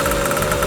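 A small engine fitted to a homemade motorized bicycle idles steadily nearby, with a low mid-pitched hum and a faint knocking pulse.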